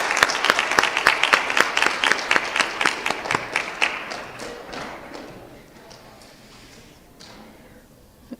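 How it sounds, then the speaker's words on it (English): School audience applauding new National Junior Honor Society members: a steady, fairly loud round of clapping with crisp rhythmic claps up front that gradually thins and fades out over several seconds. "Please give a warm round of applause to the newest members of Fowler's National Junior Honor Society"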